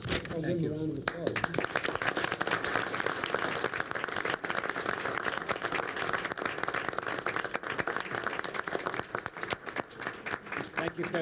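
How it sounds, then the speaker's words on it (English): Dense, continuous applause from the audience at a school board meeting following congratulations to honorees, many hands clapping steadily, with a brief voice at the start. "A round of applause."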